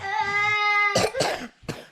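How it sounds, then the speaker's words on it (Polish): Coughs from a child who is ill with a fever and chest infection, three short harsh bursts in quick succession close to the microphone, following a sustained high whistling tone. "pokaż jak oddychasz, jak kaszlesz"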